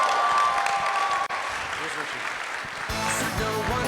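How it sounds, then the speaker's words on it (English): Wedding reception guests applaud steadily for the couple, a dense and fairly loud burst of clapping that keeps going throughout, with a voice over a microphone talking above it. "And keep that applause going"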